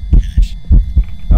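A ghost-hunt heartbeat pounds in the video game Phasmophobia, loud, close double thumps repeating about three times a second over a low hum.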